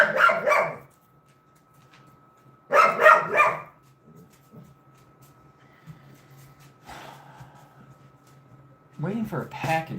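A dog barking in a home, with two close bursts of loud, harsh barks separated by quiet, and a further loud bark burst near the end. A faint steady hum runs underneath.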